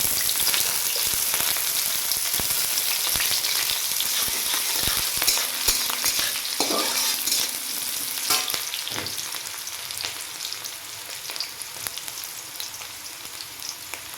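Steady, loud sizzling of onions and chillies frying in hot oil, with occasional scraping and stirring clatter.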